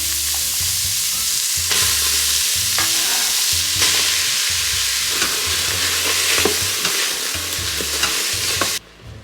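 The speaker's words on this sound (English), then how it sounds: "I have my Instant Pot on saute mode, and I'm just adding in all my veggies to start cooking those down a little bit" Vegetables sauté in an Instant Pot on saute mode, a loud close sizzle with repeated stirring scrapes and clatters throughout, cutting off abruptly near the end, with no voices.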